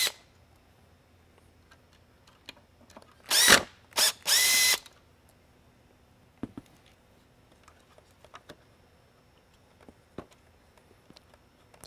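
Power tool driving screws out of a Whelen 11-inch Century Series Mini lightbar, two loud short whirring bursts close by with a brief gap, followed by quiet small clicks and handling noises.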